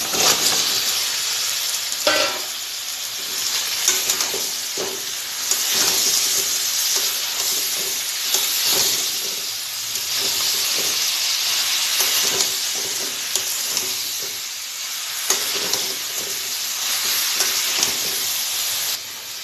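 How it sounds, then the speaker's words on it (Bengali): Kohlrabi stir-fried in hot spiced oil, a loud continuous sizzle and steamy hiss up close with repeated scraping and knocking of the spatula against the pan throughout, no talking. "আমি কপিটা ভালো করে কষিয়ে নেব"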